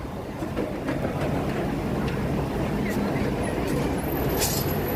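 A Walt Disney World monorail train climbs a ramp at Magic Kingdom, giving a steady, loud rumbling drone with rolling wheel and motor noise that stays even throughout, with no break.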